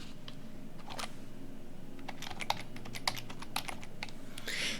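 Quick clattering keystrokes on a computer keyboard while entering a terminal command, a steady run of close, crisp taps with a few louder clicks and no talk over them.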